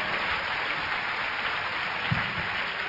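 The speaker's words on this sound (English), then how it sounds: "Why don't you give the Lord a better clap?" A church congregation at an evangelism crusade in Maryland claps together in a dense, steady wash of applause, held at an even level throughout with no pauses.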